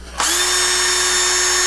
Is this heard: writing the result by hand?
no